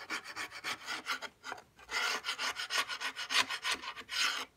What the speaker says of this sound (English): Just scrape out the old glue.